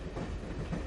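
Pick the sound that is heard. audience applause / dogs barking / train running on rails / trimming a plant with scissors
train running on rails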